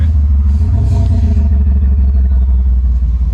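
A diesel Land Rover Defender engine fitted with a V8-style exhaust rumbles loudly at idle with a deep, heavy, throaty burble and slight clatter, steady throughout.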